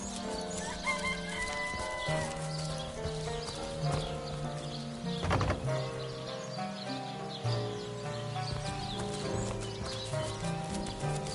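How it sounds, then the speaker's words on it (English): Chickens cluck and a rooster crows in a farm setting in Divinity: Original Sin, mixed into a dense layer of music and ambience with horse clip-clops nearby. "Those are only chickens."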